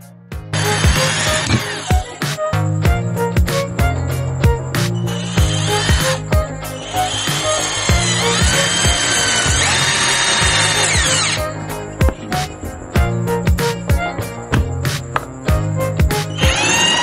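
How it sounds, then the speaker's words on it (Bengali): A Tiger Force 12 V cordless screwdriver drives a screw into plywood with no pilot hole, its motor whining in loud continuous bursts that stop and restart several times. Close by, with no talk. "তো চলুন এবার একটু আমরা স্ক্রু লাগাই, স্ক্রু লাগাইয়া দেখি যে স্ক্রুটা আসলে কিরকম লাগে"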